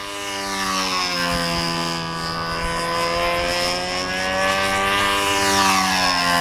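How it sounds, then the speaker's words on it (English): A model aircraft with a PA75 engine on a tuned pipe screams steadily overhead through a flying contest at the US Nats, its harmonic whine rising and falling in pitch as it moves through maneuvers, loud and continuous. "This is a pipe motor, more than likely with a PA75"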